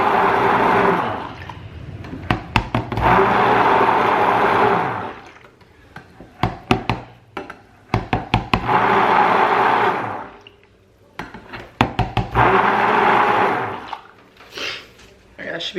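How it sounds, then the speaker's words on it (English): A stick blender works thick cold process soap batter in several whirring bursts of a few seconds each, loud and close, with sloshing, scraping and knocking against the container between runs. "Almost too thick to stick blend."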